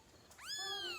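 A newborn kitten gives a single rising, thin meow, close and fairly loud against a quiet room.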